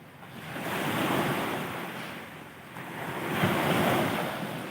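Sea waves wash onto a seashore in broad, rushing surges that swell and recede twice, with steady wind noise across the microphone and no voices.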